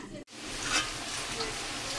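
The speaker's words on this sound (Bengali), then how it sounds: "আমার গ্রেভিটা একদম টকবক করে ফুটছে" A vegetarian eggplant curry gravy bubbles and sizzles in a pan, a dense crackling hiss with small popping bursts, briefly cut near the start, then steady and close.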